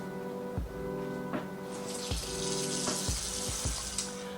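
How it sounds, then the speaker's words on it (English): Tap water runs steadily into a sink during a face rinse, with splashing that grows brighter and fuller midway and a few knocks and splashes from hands in the stream. "I don't feel any more granules, so I'm gonna go ahead and rinse."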